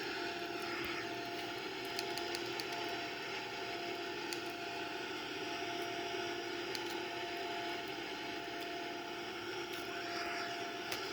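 Boeing 787 engines in a flight simulator game drone steadily through a climb, a faint, even whine and rumble that continues unchanged throughout with no voices.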